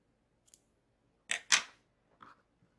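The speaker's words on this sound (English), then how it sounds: "I will need to cut my yarn." Scissors snipping crochet yarn while finishing a granny square, two quick close, sharp cuts followed by a softer handling sound, with no voices.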